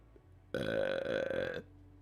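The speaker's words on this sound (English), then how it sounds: "we got a bonus burp there" A single long, deep burp, loud and close, lasts about a second against a quiet room.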